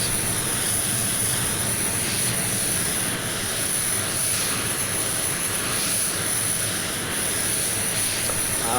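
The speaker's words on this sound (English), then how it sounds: "Let's get this APU turned off." An F-22 Raptor's APU runs in the Prepar3D flight simulator, a loud, steady, unbroken turbine roar with a high whine, holding even from start to finish with no talk.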